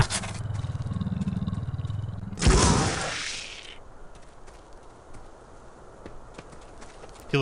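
Donkey hooves clip-clop in a steady rhythm in the video game Clive Barker's Undying, then a loud scraping rush breaks in and fades, leaving quieter faint clatter behind.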